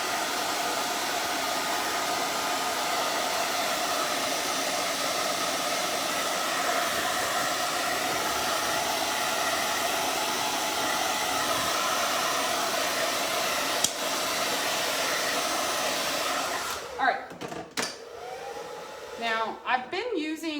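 A blow dryer blasts a loud, steady whooshing roar for about sixteen seconds, drying paint on gnome yard art, then switches off, leaving light handling noises.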